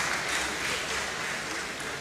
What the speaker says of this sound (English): Once again, let's give a round of applause.